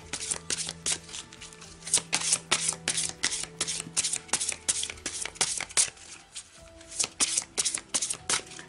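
Oracle cards are shuffled by hand, a rapid series of crisp riffling bursts and soft flaps repeating in an uneven rhythm, close and fairly quiet.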